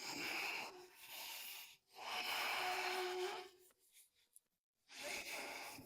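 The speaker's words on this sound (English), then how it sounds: "Breathing deep." Deep, slow breaths during a yoga session for athletes, long loud airy inhales and exhales in three or four cycles, close to the microphone with a brief quiet pause between.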